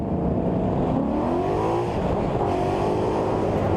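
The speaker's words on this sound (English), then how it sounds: "that car is ferociously loud" A 2013 Mustang GT's engine roars loudly and continuously, its pitch rising and falling as it revs hard, close and powerful throughout.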